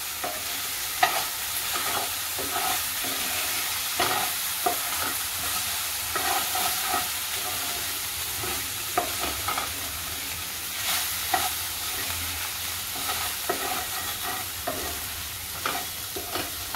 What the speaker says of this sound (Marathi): आपण परतून घेऊया।